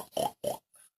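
Pig grunting as a storytelling sound effect: two short, nasal oinking grunts close up, followed by a fainter squeaky snort.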